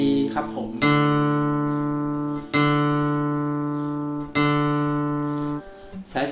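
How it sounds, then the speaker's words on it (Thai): Fourth string of a guitar plucked open as a D tuning note, three separate pluck attacks each ringing on with a steady, slowly fading tone, close and clear with no talking. "สาย4เสียง D ครับผม"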